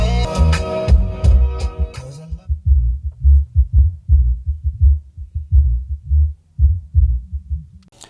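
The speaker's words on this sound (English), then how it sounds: "there's the bass even at 0 volume" A subwoofer keeps putting out bass with the volume at zero. After a short burst of music, it sounds as deep, rhythmic, throbbing low thumps, steady and fairly loud, repeating like a heartbeat.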